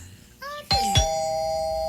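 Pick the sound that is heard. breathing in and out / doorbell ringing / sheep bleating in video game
doorbell ringing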